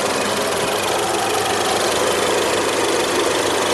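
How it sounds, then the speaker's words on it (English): The 2-liter turbocharged four-cylinder Ecoboost engine of a 2014 Ford Fusion Titanium idles with a steady, loud, even hum and whir that holds without change throughout, with no talking. "This one does have Ford's 2-liter turbo 4-cylinder."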